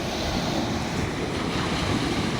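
Sea waves wash continuously onto a beach at sunrise, a dense, loud roar of surf with wind buffeting the microphone throughout and no voices.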